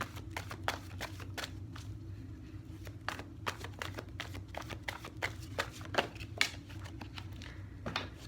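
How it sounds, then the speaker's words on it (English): Tarot cards being shuffled by hand, a quick run of crisp riffles and soft slaps repeating in an uneven rhythm over a low background hum, close and fairly quiet. "I'm gonna keep shuffling is what I'm gonna do."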